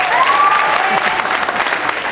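A crowd at a community dinner dance claps loudly and steadily as names are called, with a brief whistle rising over the applause and some murmured voices underneath.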